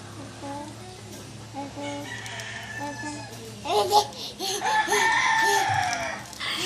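A rooster crows from nearby, rising over a steady background of mixed voices and household noise.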